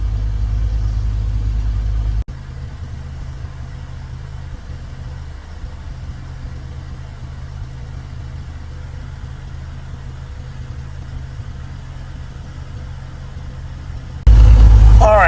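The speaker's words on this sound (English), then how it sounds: "The motor's obviously running and the alternator is working" A BMW E93 M3, an abandoned auction car, idles with a steady low engine drone that runs unbroken at a constant level, ending in a louder, fuller burst.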